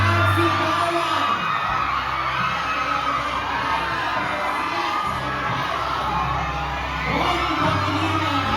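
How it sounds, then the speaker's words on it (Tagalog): Large premiere crowd for DonBelle cheering, whooping and shrieking continuously at high volume, with dense applause and a loud, sustained roar that swells again near the end. "Sabuhin natin ang palakpakan at sigawan."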